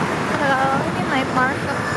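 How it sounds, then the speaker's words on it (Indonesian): Strong wind roars steadily at an outdoor night market in Taipei on a cold evening, a broad close rush with faint voices mixed in. "Oh, anginnya deras banget, deras anginnya deras."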